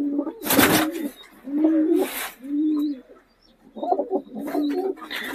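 Pigeons coo repeatedly in short, soft bursts from close by, each call a low, rounded warble with brief pauses between, set in a pigeon loft of Murshidabadi and Golden breed birds.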